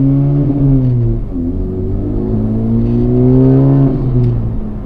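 Honda Civic Type R with a Stage 2 shifter upgrade pulls hard through the gears, its engine note climbing and then dropping at each of several shifts, loud and close with no talk over it.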